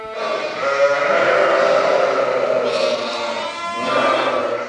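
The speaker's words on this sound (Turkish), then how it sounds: "Ağıllar kuzuların artarak tatlı bir melodiye dönüşen sesleriyle doldu." A chorus of sheep and newborn lambs bleating in a fold during lambing season, overlapping drawn-out cries filling the space steadily, close and fairly loud.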